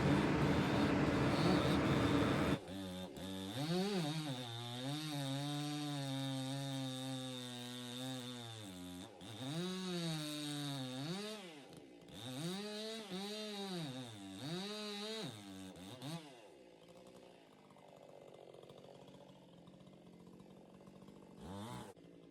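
A chainsaw with a half-wrap handle cuts tree stumps down near the ground. The engine revs up and down loudly and close in repeated surges, then drops back to a lower idle near the end.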